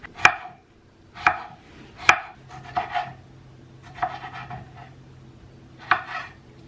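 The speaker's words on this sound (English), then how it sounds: "so it's all gonna be just chopping." Knife chopping vegetables on a cutting board for Greek grain bowls, with sharp, spaced single chops and short bursts, close and clear with no talking.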